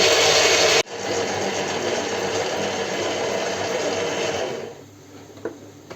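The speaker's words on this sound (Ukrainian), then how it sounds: "даємо частинами 180 е, грам цукру. І збиваємо далі." An electric hand mixer whips egg whites as sugar is added in portions for a Ukrainian layered cake, a steady loud motorized whir running continuously after a brief break near the start, then fading toward the end.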